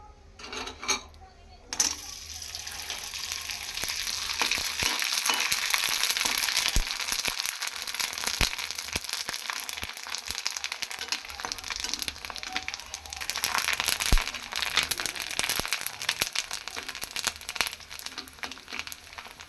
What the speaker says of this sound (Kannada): ಇದನ್ನ ಇವಾಗ ಎಣ್ಣೆಲಿ ಕರಿದು ಕರಿತೀನಿ ನೋಡಿ